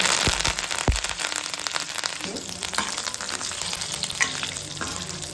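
Mustard seeds, cumin and curry leaves dropped into hot oil for an Andhra gongura prawn curry, spluttering loudly and close with sharp popping crackles over a dense, continuous sizzle.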